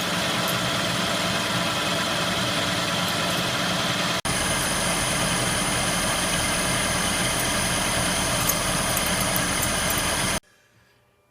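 A metal lathe turns down a tough steel blank to form a number 3 Morse taper, making a steady, loud, continuous grinding hum that runs without break and then cuts off abruptly.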